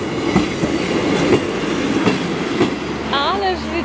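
A train rolls past a level crossing with a steady, loud rumble and rhythmic clickety-clack of wheels over rail joints, ending with a rising whistle-like squeal as it passes.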